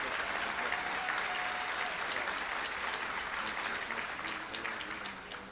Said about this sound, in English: I would be remiss if I did not ask your applause for Joni Smith